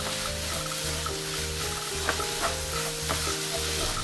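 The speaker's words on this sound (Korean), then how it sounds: "고슬고슬해질 때까지 볶아주세요." Tofu being mashed and stir-fried over high heat in a pan, with a steady sizzle and repeated scraping stir strokes throughout, close and alone.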